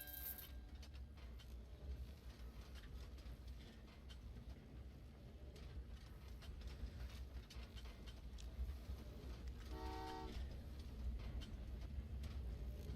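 Trains rolling along in Train Valley 2, a low continuous rumble with faint clacking and a brief whistle-like tone near the end, steady and moderately quiet throughout.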